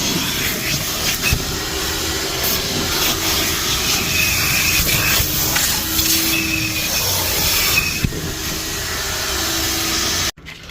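A vacuum cleaner runs continuously inside a car while the interior is cleaned, a loud steady whine with shifting tone as the nozzle moves, cutting off abruptly near the end.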